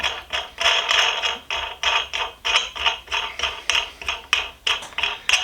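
An alligator wrench being threaded onto a lag bolt with a square nut set in a block of wood, giving a steady run of rapid metallic clicks and ratcheting scrapes in short repeated bursts, close and clear with no talking.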